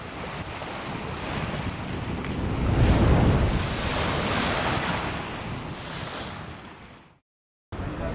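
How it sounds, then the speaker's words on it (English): Sea waves and wind roar around a kayak out at sea, swelling to a loud peak midway and then easing off, before a brief dropout and a return of the surf; no voices are heard. "Malcolm and Duncan ventured out into the sea by kayak"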